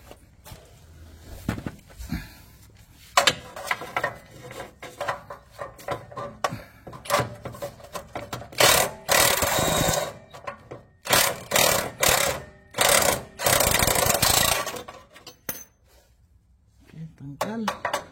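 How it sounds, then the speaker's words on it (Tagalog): Ratchet work removing bolts underneath a 2006 Nissan X-Trail gives irregular metallic clicks, clanks and tool knocks in uneven bursts, close and fairly loud, with someone talking between them. "Tanggalin ko na ngayon yung dalawang bolt sa baba."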